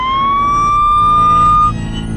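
An ambulance emergency siren gives one loud, close wail that rises steadily in pitch, then cuts off abruptly into low background rumble.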